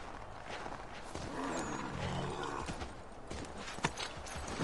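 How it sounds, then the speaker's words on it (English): Horse hooves clip-clop at a steady walking rhythm amid ambient game sounds in Assassin's Creed III, moderately loud with a few sharper knocks near the end. "All we gotta do is take a horse."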